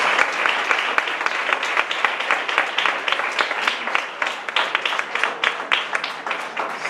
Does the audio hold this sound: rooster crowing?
no